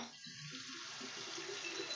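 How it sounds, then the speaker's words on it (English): Warm water runs from a sink tap, a steady hiss of flowing water that rises from a brief start into a constant stream, close and alone. "I'm going to turn my water on with the paper towel, warm water."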